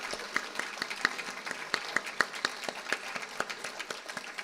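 An audience at a university program inauguration claps steadily, a dense crackle of many hands that holds evenly for the few seconds without other sounds.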